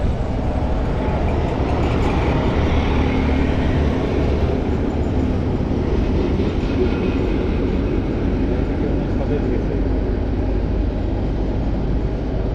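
A train running past at close range, a loud continuous low rumble with rail noise that holds steady throughout.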